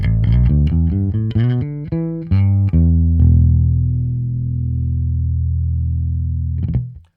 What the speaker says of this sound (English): Okay, this is my clean signal.